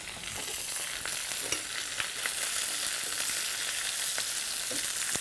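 Bluefish fries in oil in a hot pan that is starting to burn, giving a steady, close, crackling sizzle with scattered small pops throughout.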